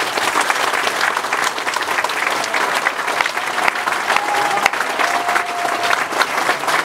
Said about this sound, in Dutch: En als u nou zometeen klapt, kunt u misschien even bij gaan staan.